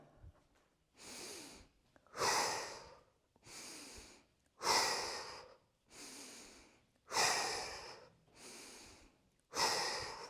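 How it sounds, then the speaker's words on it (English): Slow, steady breathing during a yoga exercise, drawn in through the nose and let out through the mouth, alternating in about eight close, clear breaths with nothing else heard. "you breathe in through your nose one way and out through your mouth another"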